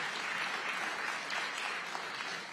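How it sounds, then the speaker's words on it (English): Applause from the audience at a CPAC summit against human trafficking, a dense, steady wash of clapping heard at a distance and fairly quiet. "I'll tell you, a round of applause."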